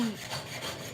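A brief stretch of hand sawing through wood, a single rough, raspy stroke of moderate loudness heard alone in a room.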